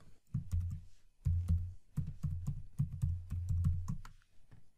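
A password is typed on a computer keyboard, with quick irregular key clicks in short bursts and brief pauses between them, close and clear with no talking.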